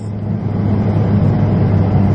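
Ferrari engine pulling hard out of a corner at Silverstone circuit, a steady loud low rumble building under acceleration, heard close from inside the car with no talk.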